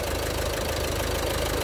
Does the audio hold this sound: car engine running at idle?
yes